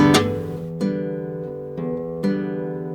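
Guitar picks out a bossa nova rhythm, with three or four bright strummed chords ringing close and clear, each left to sustain before the next.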